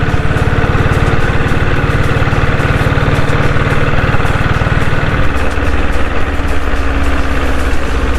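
A restored diesel Royal Enfield Bullet motorcycle engine idles close by, loud and steady with a fast, even low thump; the pulse shifts slightly partway through and keeps running without any voices.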